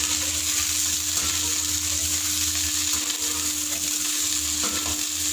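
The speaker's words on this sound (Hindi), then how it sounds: "अब हम इसमें लसूड़े डालेंगे। इनको मैं हल्की आंच पे थोड़ा सा तड़क लूँगी।" Lasoda (gunda berries) crackle and sizzle in hot mustard oil in a kadhai over low heat, a steady dense frying hiss with a faint background hum and no talking.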